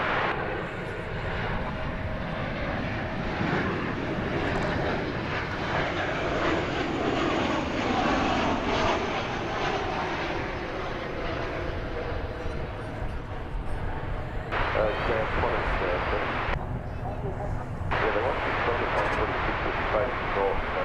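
An American Airlines Boeing 737-800 airliner in from McAllen, Texas roars loudly and steadily at DFW Airport, a sustained broadband engine rumble that swells and holds throughout, with voices talking over it.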